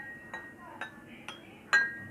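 Glasses holding different amounts of water are struck in turn, giving four evenly spaced bright clinks with ringing tones of differing pitch, the last one the loudest.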